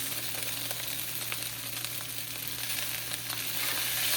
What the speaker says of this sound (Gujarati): હવે નાખીશું નૂડલ્સ